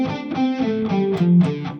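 Distorted electric guitar in drop D tuning running through a pentatonic scale, a sustained, gritty run of single notes played alone with steady rhythm and no talking.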